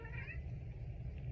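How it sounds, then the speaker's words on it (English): A small kitten meows once in the background of an indoor room, a brief, faint cry over a low rumbling hum. "We got little kitties running around."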